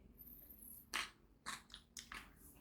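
An Oreo-style snack cookie gets bitten and chewed close up, giving a few quiet, crisp crunches spaced about half a second apart over a faint background hiss.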